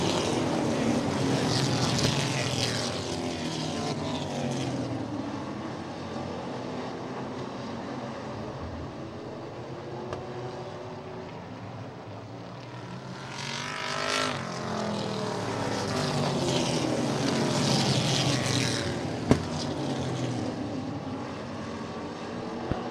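Race cars lapping a track during a race, engines droning loudly and steadily with a roaring pass-by swelling around the middle, Doppler-shifting as cars sweep past near and far.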